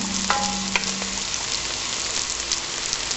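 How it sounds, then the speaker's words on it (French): Steady crackling sizzle of vegetables for a sweet pumpkin and carrot soup gently sautéing in a pan, close and continuous, with a few brief clinks near the start. "Faites revenir doucement"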